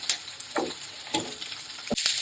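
Vegetables and okra fry in a pan while being stirred, a soft continuous sizzle broken by several scraping strokes of a spoon, close and fairly quiet, with no talk.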